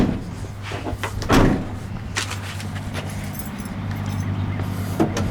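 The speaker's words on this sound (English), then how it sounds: "Door shut good and lines up nice" A car door slams shut on an older vehicle with original factory undercoating, one solid thump about a third of the way in, followed by a faint second knock near the end over steady low engine-like hum.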